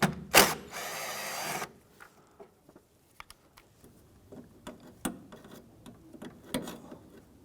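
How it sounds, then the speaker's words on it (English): Near the start a ratchet makes a brief loud buzz on the 10mm strut tower brace bolt of a 2004-2008 Acura TL, followed by irregular small metallic clicks and ticks as the bolt is handled, with no talking. "Remove that 10mm bolt."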